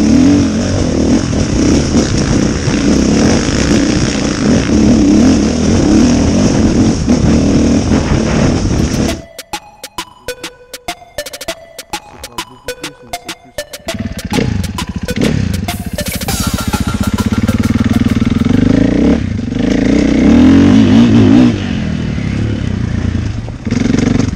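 Off-road motorcycle engine revving loudly and steadily at close range during a test ride, dropping away briefly to a quieter clattering idle before the roar builds again.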